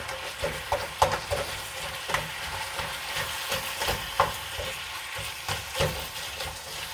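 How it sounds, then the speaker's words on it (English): Food sizzling in a frying pan seasoned with pepper as it is stirred, soft scraping strokes and crackles recurring in an uneven rhythm over a steady frying hiss. "And then stir it up."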